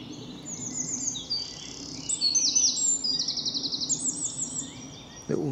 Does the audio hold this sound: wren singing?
yes